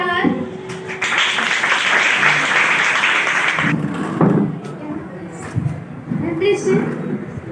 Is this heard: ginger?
no